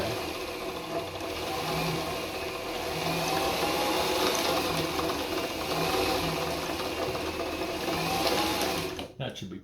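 A Singer 237 Fashionmate sewing machine winds a bobbin, its motor giving a steady, moderately loud whirring hum that runs almost the whole time before cutting off near the end.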